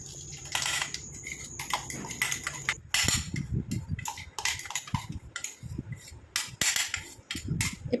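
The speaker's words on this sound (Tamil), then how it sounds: "இப்போ இதை வந்து நம்ம ஒரு தட்டில் கொட்டி வச்சுக்கலாம்" Ground curry leaf and fenugreek powder tipped onto a plate, with close, irregular clinks and scrapes of a utensil against the plate and soft rustling of the dry powder.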